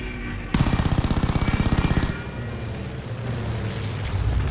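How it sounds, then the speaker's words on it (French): Automatic gunfire in Call of Duty: Vanguard during the Battle of Midway: a loud, rapid, evenly spaced burst lasting about a second and a half, then a lingering rumble of battle noise. "Je subis trop de tirs. Je me fais canarder."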